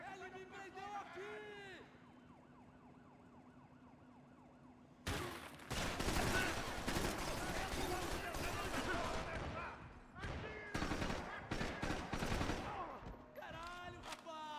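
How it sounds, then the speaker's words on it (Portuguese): Gunfire in a Max Payne 3 firefight: after a quieter opening with siren-like wails, a loud, dense burst of rapid shots and explosions erupts and continues in choppy volleys, with voices shouting over it. "Atirando! Você tá atirando!"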